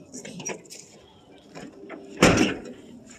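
The door of a rusty 1972 Chevy K10 pickup truck opens with one loud metallic clunk late in the moment, preceded by quieter handling noises and faint talking nearby.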